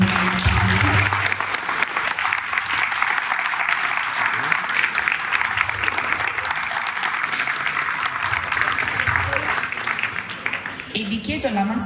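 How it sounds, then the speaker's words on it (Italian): Students in a school hall applaud to welcome judge Carlo Alemi, a loud, steady wash of many hands clapping together that continues for the whole stretch. "Facciamo un applauso."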